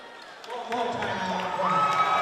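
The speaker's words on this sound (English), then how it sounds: "This Oakley crowd is fired up" Home crowd at an Oakley high school varsity basketball game against Quinter, cheering and whooping as the noise swells after a play, with a commentator talking over it.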